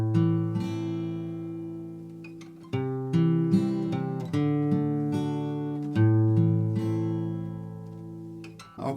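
Acoustic-style guitar strumming the verse chords of a song with an added note, slow and moderately quiet, each chord ringing out and decaying before the next, played alone.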